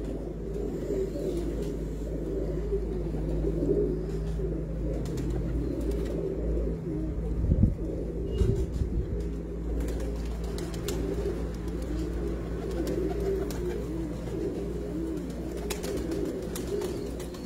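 Breeder pigeons coo in a loft, their soft, throaty, rolling calls repeating steadily and overlapping close by, with a few louder knocks partway through and no voices.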